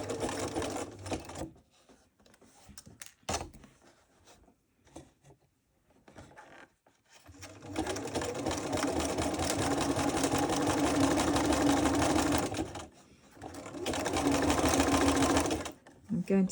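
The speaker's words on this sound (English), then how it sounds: "I'm going to stitch part of this loop down as well." A sewing machine stitches sash cord rope into a fabric-wrapped rope bowl, first in short, sparse bursts, then in two long, steady runs of loud stitching separated by a brief pause.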